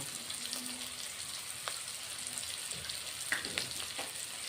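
Onions fry in a pan until browned, giving a soft, continuous sizzle with a few faint crackles and stirring clicks, low in level and with no voices.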